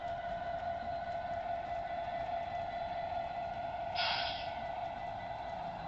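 A True Line Trains model train runs on a small loft layout, giving a steady motor whine and rolling hum, with a short, brighter whistle-like burst partway through.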